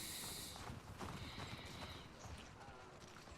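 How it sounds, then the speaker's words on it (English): Horses shift and clop their hooves in a barn in the video game The Last of Us Part 2, with an occasional snort. The steady hoofbeats are faint under soft ambient hiss. "So this is where we get our horses"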